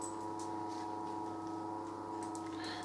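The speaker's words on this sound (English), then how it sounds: "Sorry about the noise in the background, that's the oven running." Steady oven hum in a workshop kitchen, a constant low drone with sustained tonal lines running unbroken throughout, faint and alone with no talk.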